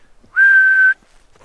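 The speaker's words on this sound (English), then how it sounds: "like a person whistling. One straight note." One clear, steady whistled note holds for about half a second, alone in near silence.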